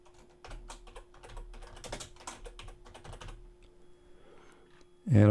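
Someone types on a computer keyboard, producing close, quiet, irregular clusters of key taps, then a louder thump at the end.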